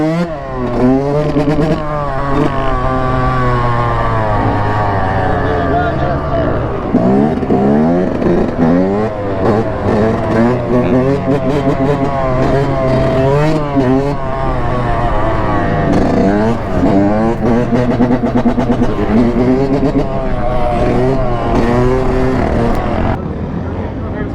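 A Honda dirt bike engine revs and roars continuously up close, its pitch rising and falling as it is ridden, loud throughout with occasional voices underneath.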